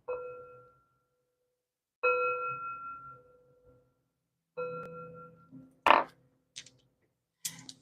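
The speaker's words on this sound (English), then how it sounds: "3 chimes to bring in positive energy." Three chimes ring out one after another at an unhurried pace, each bright metallic tone lingering and fading before the next, followed by a few small clicks and soft knocks nearby; no voices.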